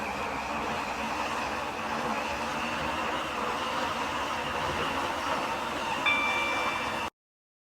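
A train runs in the Stepford County Railway video game on a Waterline service, a steady hum and rolling rumble of the train continuing evenly, then cutting off abruptly.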